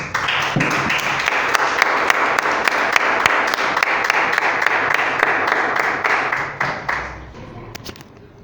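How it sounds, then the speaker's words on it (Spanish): A church congregation claps together during a service in a dense, steady burst of applause that tapers off abruptly near the end, leaving brief quiet. "Vamos a dar un fuerte aplauso a nuestro Señor Jesucristo"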